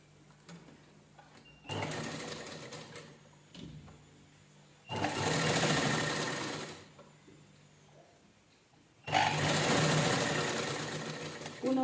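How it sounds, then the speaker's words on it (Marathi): Sewing machine stitching an old T-shirt into a doormat, running in three separate bursts of rapid, even whirring stitches, each about two seconds long, with quiet pauses between them, close and moderately loud. "आपण ह्याला पहिल्यांदा स्टिच करून घेऊया व्यवस्थित"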